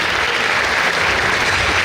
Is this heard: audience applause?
yes